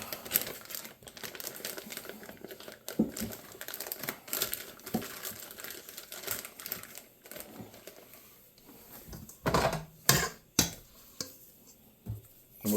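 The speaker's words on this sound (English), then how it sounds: "open up a Ziploc bag" A plastic Ziploc bag is opened in a kitchen, with a run of close, crisp crinkles and rustles, then a few louder snaps of plastic near the end.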